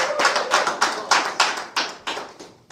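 A handful of people clap in a slow, uneven rhythm, roughly ten sharp claps spread over a few seconds, close and crisp with no talking.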